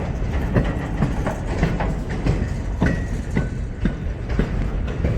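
A loaded freight train of railroad cars rolls past nearby, its wheels beating a steady, repeating clickety-clack over the rails above a heavy low rumble, with no voices.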